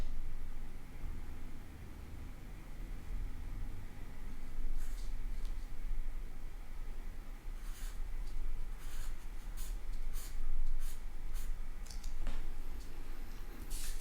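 Graphite pencil shading short fur strokes over and over on paper while drawing a puppy's front paw and chest, a soft continuous scratchy rasp with brief brighter scribbling bursts, close and quiet.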